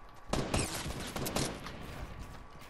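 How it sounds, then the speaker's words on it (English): Gunfire in a Fortnite match: a burst of several rapid shots near the start, then further shots around the middle, fairly loud and close, with game ambience continuing between them. "Now I'm getting shot!"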